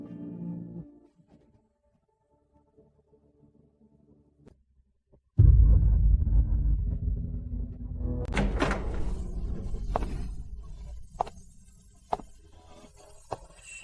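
A door opens with a sudden low heavy thud and rumble, followed by a lingering low drone and several sharp clicks and knocks, after a stretch of near silence.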